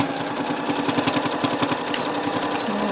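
A sewing machine runs steadily along a marked line, its needle pounding out a fast, even rhythm with a brief back stitch before stitching forward again, loud and close with no talking.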